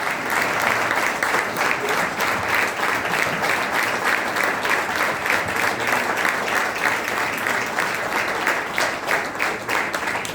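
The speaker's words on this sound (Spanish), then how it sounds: "Dale un fuerte aplauso a Jesús" A church congregation gives sustained, dense applause at an anniversary service, with steady clapping filling the room and faint voices underneath.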